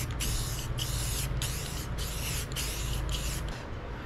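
Spray gun applying a custom paint job in light coats, a steady hissing spray broken into about seven short bursts with brief pauses between passes.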